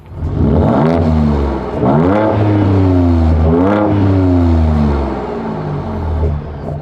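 A Ford Ranger Raptor pickup's engine exhaust in Baja mode revs up repeatedly, loud close rising and falling blips with a deep rumbling idle between them, no voices.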